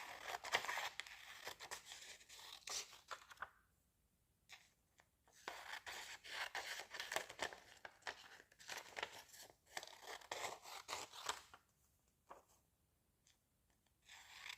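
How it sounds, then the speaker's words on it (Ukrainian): Scissors snip and crinkle through strips of paper in close, repeated bursts of crisp cutting and rustling, with short quiet pauses between strokes. "Відкриваємо і закриваємо леза ножиць."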